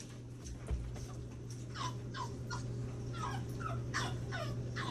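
A crated puppy with separation anxiety whimpers and fusses, a run of high, thin whines and yips repeating every half second or so, fairly close but soft over a low background hum.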